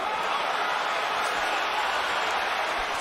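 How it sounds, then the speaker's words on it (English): Dense, steady roar of a boxing arena crowd at a Mayweather versus Mosley fight, a broad wash of cheering voices holding loud and even throughout, with commentary mixed beneath. "Crowd is now rising in the excitement"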